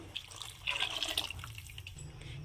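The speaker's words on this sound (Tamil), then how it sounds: "இப்போ தேவையான அளவு தண்ணி ஆட் பண்ணிக்கலாம்." Water poured into a pot of horse gram rasam being cooked, a short splashing trickle that swells briefly and then fades into quiet kitchen background.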